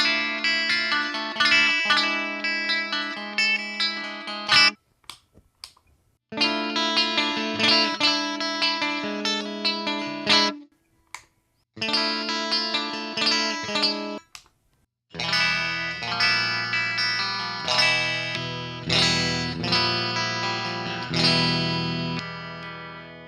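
An Epiphone electric guitar with the bridge pickup coil-split and phase invert on, played in distorted, chorus-tinged chord bursts separated by brief silences, strumming loud and close.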